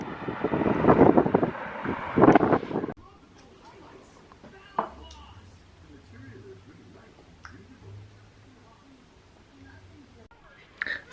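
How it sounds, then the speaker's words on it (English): Gusty wind buffets the microphone outdoors near a post office, with loud rumbling bursts over the first three seconds that then ease to a quieter, steadier rush broken by faint clicks. "it's a bit windy, so I don't know how much of this the microphone will be picking up"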